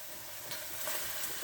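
Chopped onions sauté in a hot pan for hamburger steak with onion gravy, giving a steady, close sizzling hiss with faint stirring scrapes throughout and no talking.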